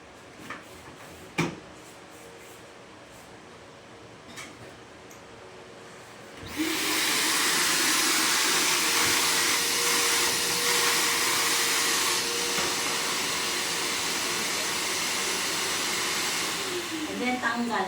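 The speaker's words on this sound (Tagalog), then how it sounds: "mag-vacuum tayo sa sopa" Vacuum cleaner switching on and running steadily for about eleven seconds at close range while cleaning a sofa, a loud constant broadband roar after a few quiet knocks.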